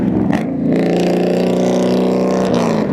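A loud vehicle engine roars steadily close by, its droning pitch rising slightly as it passes.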